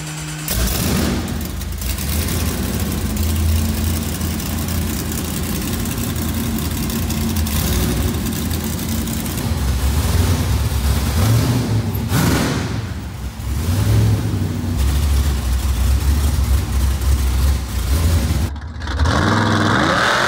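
A 1-of-69 50th anniversary COPO Camaro V8 rumbles loud and close, with a deep steady idle broken by several throttle blips and revs over about twenty seconds, alone with no talk.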